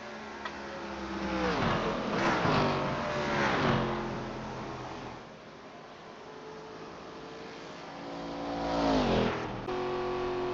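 An ARCA race car roars across the finish line at Indianapolis, its engine note rising and falling with several cars passing in a loud, sustained pack-racing drone.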